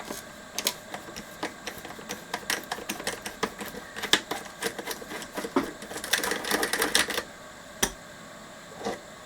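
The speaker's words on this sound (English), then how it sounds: "Just going to go with the 8mm socket." An 8mm socket, likely on a ratchet, loosens nuts on a Tom Evans Mastergroove SR mkIII preamp, giving rapid, close ratcheting clicks in bursts with brief pauses and no talking.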